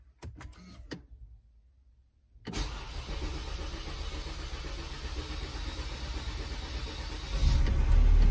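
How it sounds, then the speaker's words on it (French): An Opel diesel car engine cranks and catches after a fuel filter change and a short quiet pause, then settles into a steady idle that swells louder near the end. "je vais démarrer le véhicule"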